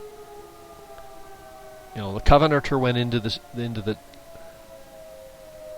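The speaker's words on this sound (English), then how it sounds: "if you hear that siren going off and you see the base captured" A base capture siren in a tank video game wails as a steady, sustained tone through the whole stretch, with someone talking loudly over the middle.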